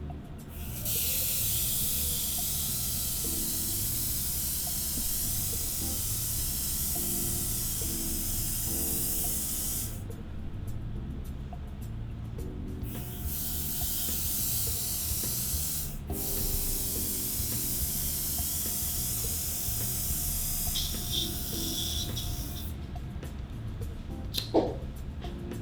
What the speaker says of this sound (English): So I'll use the waterproof spray in here.